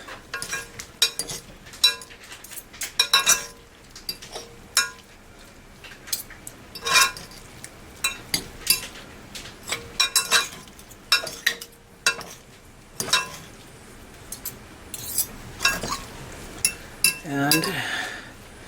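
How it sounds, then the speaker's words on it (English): Green beans being tossed with parsley in a pot, metal utensils clinking and scraping in irregular bursts, close and fairly loud, with short gaps between the clatters. "I'm going to add 1 tablespoon parsley and toss it some more."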